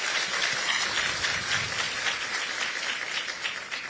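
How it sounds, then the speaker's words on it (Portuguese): A church congregation applauds Our Lady, a steady, fairly faint ripple of many hands clapping throughout, with no talk over it. "Vamos aplaudir Nossa Senhora,"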